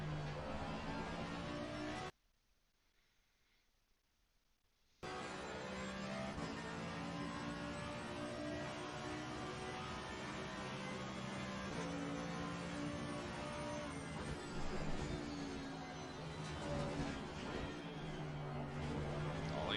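Race cars run laps on a circuit during an ARL Thursday super series round, a steady engine roar with revving and cars passing by, briefly cut to near silence early on before the racing noise returns.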